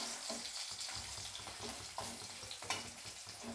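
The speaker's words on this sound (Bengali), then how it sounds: "এই রসুন আমি ফোড়নে দিয়ে দেবো" Garlic cloves fry in hot oil for tempering, giving a steady close sizzle and crackle with a few faint stirring clicks throughout.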